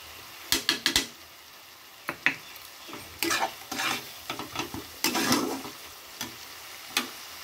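Turmeric and Kashmiri red chilli powder fry in a pan for Bengali dal chingri, making a string of sharp, scraping stir bursts and short sizzles that come and go at close range.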